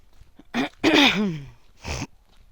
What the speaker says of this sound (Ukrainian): Я, як завжди, на осінь кашлаю.